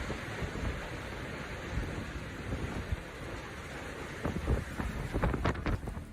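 Tornado wind rushes over a pharmacy, a continuous roaring gust noise buffeting the microphone, with sharp bangs and clatters of flying debris growing more frequent toward the end.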